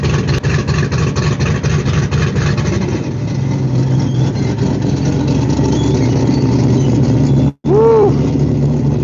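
A car engine at a car show idles loudly and steadily close by, then cuts out for a brief moment before resuming as the car is put in gear and pulls away; no clear talk.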